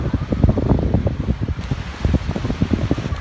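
Strong wind gusting at Bang Saen beach in Thailand, a steady, loud rush and buffeting across the microphone with no voices over it.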